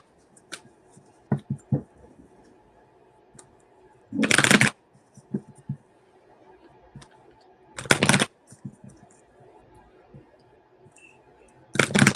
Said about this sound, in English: I think this is the most that I've shuffled today.